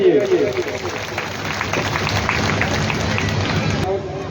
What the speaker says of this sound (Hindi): पर जोरदार ताली बजाइए।